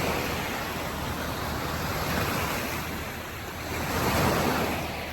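Ocean waves wash onto an island beach at sunset in a steady, broad surf roar mixed with wind. The sound swells gently toward the end.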